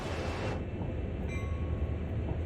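In Train Sim World, a train rolls slowly into a yard in bad weather. Steady loud rumble and rail clatter, with a brief faint squeal of wheels partway through.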